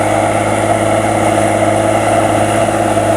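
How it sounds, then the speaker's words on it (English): A steady, loud engine drone comes from a Cummins-powered tractor working close by as it ploughs a field, running at an even pitch without a break. "Listen to that engine, eh? What a treat."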